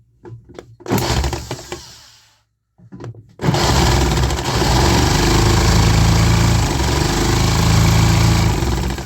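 A few sharp knocks and a brief cranking burst, a pause, then a small engine, dosed with starter fluid, turns over loudly and continuously, rough and uneven, nearby, with a few combustion events.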